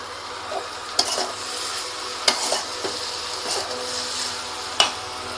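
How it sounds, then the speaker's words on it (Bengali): Egg chow mein being stirred with salt in a frying pan, a steady sizzle broken by several sharp scrapes and clinks of the utensil against the pan at irregular intervals, close and moderately loud. "একটু লবণ দিয়ে দেবো দিয়ে খুব সুন্দর করে মেশাবো"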